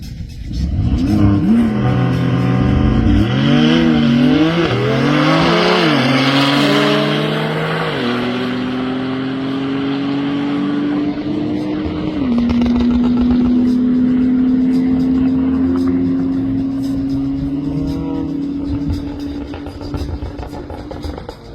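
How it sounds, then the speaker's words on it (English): Porsche 911 Turbo S (992.2) and McLaren 750S in a half-mile airstrip drag race, engines roaring loud and close with rising revs stepping through rapid gear changes, then a long sustained high-speed drone. "a half-mile airstrip drag race that I did between a 750S from McLaren"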